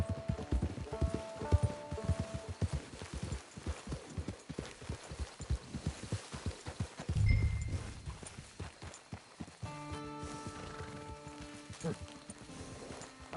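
Horse hooves clip-clop in a PS4 video game, a steady run of quick, even steps through most of the stretch, heard under game music and a few brief spoken lines.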